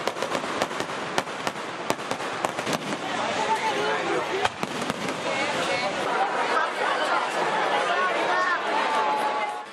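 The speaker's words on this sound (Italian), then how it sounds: "I sestieri cittadini hanno dato vita al tradizionale omaggio dei botti" Dense crackling bursts of traditional festival firecrackers and fireworks, climaxing with the burning of the castle, sharp bangs mixed into a continuous rattle, with crowd chatter underneath.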